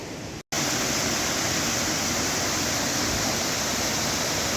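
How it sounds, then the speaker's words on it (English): A waterfall in Chefchaouen pours in a dense, steady, close rushing roar that fills the whole clip after a brief dropout near the start. "for now, enjoy the waterfall"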